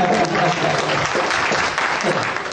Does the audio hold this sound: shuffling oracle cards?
no